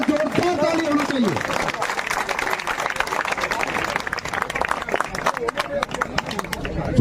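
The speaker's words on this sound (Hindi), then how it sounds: "जोरदार ताली बजाकर उनका स्वागत करें।" A village crowd claps loudly and steadily to welcome a BJP candidate at a rural campaign stop near Harda, the dense applause running throughout while a voice speaks over it at the start.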